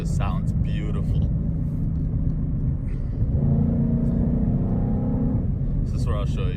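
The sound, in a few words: 2017 Ford Mustang GT V8 engine while driving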